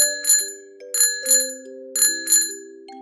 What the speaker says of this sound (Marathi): बायसिकलची बेल आवाज काढते क्रिंग क्रिंग क्रिंग क्रिंग क्रिंग क्रिंग